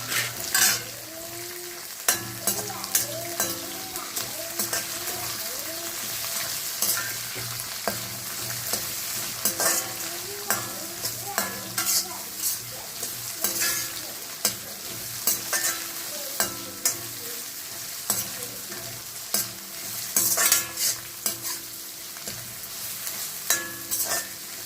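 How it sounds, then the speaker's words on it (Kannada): Finely chopped onions frying in oil for a South Indian tomato gojju, with a steady sizzle and frequent scraping stirs of a spatula against the pan across the whole stretch. "ನೋಡಿ, ಈರುಳ್ಳಿ ಚೆನ್ನಾಗಿ ಫ್ರೈ ಆಗಬೇಕು."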